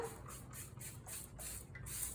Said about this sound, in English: I'm just going to spray it down.